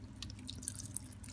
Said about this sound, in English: Then let me put a vinegar.